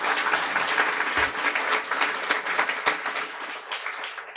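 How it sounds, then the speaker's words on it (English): A graduation audience at a guide dog school gives a warm round of applause, a dense burst of clapping that starts strong and gradually thins and fades toward the end. "So warm round of applause for all the work that went into doing that"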